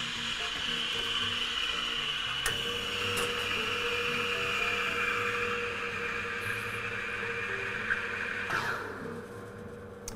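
A Lavazza Blue capsule machine brewing a single espresso, a steady pump hum with a trickling, hissing flow that stays fairly even, ending with a short sputter, close by and without talk.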